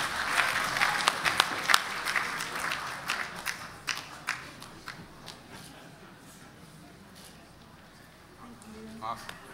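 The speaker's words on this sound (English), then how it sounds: "Let's give her another round of applause" Audience applause at a student leadership awards ceremony, clapping loud at first and then fading to scattered claps, with voices heard in the room.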